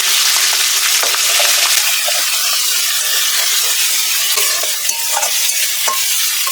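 Ground cumin paste with onion and garlic paste fries loudly in a pan, a thick steady sizzle broken by scraping stirs and soft spatters, close up and without talk.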